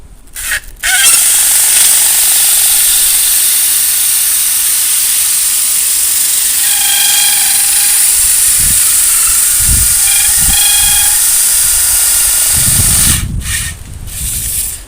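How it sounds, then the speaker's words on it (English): A power drill spins a tight-grained wooden arrow shaft held in a quick-release clamp, producing a loud, steady whirring hiss that runs unbroken for about twelve seconds, starting and stopping abruptly, with faint rubbing knocks underneath. "Any drill that has a decent torque, decent speed"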